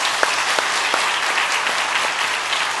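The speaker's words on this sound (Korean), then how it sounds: "모든 분들 박수로 환영하며 축복하겠습니다" A church congregation at a Sunday worship service claps to welcome a new family, producing a continuous, fairly close round of applause from many hands.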